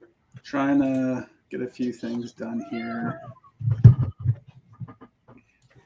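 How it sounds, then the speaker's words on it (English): A cat meows at the start, a drawn-out tonal call followed by several shorter rhythmic meows in a home, before someone speaks close to the microphone. "was that one of your cats?"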